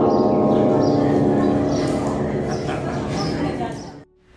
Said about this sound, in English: Currently the largest ringing bell in the world at a weight of 116 tons, the Bell of Good Luck hangs in the Fo-Quan Temple in Hunan, China.